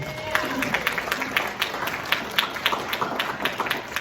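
An audience at a meeting gives a round of applause, a dense patter of many hands clapping at moderate distance with some voices mixed in.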